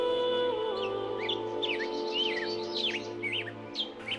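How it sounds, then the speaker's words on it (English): Birds sing in the Dilijan forests, a series of bright chirps and whistled phrases over a sustained musical backing, with no voices. "Birds sing their beautiful songs in trees, forest glades, bushes and gorges."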